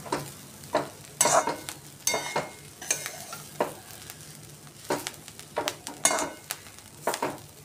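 Kashmiri red chili powder being stirred into the sambar wadi filling in a pan, heard as repeated close scrapes and taps of a spoon over a faint sizzle.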